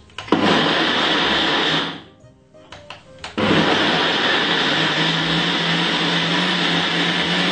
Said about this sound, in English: I'm gonna be blend this for probably about 2 to 3 seconds, because I'm not making a smoothie.